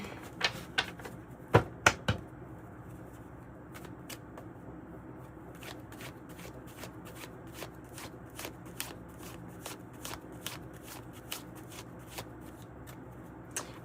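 A deck of oracle cards is shuffled by hand, with a few sharp riffling snaps early on, then a long run of soft, quick card taps and slides at close range over a quiet room.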